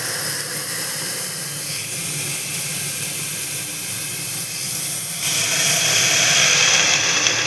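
Mixed mung and masoor dal with radish tipped into hot tempering, a loud, close, continuous sizzling hiss that swells brighter and stronger partway through.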